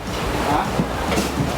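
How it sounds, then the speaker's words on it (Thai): Steady rushing roar of falling water, close and constant, with a faint murmur of voices. "และเสียงเริ่มดังแล้วได้ยินใช่ไหมครับนี่คือเสียงน้ำตก"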